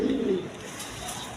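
A Serazi Lahori pigeon gives a brief, soft coo, close by and fading quickly into background noise.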